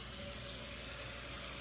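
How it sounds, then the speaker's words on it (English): Water runs from a kitchen tap into a pink cooking pot, a steady, fairly quiet hiss and gurgle that continues without a break and with no talking. "Keep turning the water on."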